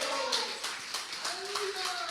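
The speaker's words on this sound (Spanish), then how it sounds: "La novia del aplauso a Dios." A church congregation applauds during an evangelical sermon, a brief burst of steady, crowded clapping heard at middle distance, with a preacher's voice and other voices over it.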